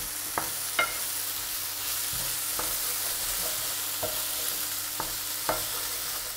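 Vegetables roast and sizzle in a pan for a vegan dark gravy, a steady hissing fry broken by several sharp scraping clicks of stirring, close and alone without talk.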